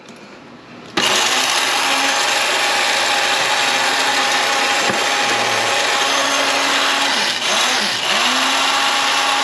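An electric spice grinder whirs loudly and steadily as it grinds spices, starting abruptly after a brief quiet moment and holding a constant high-pitched motor drone with slight pitch dips.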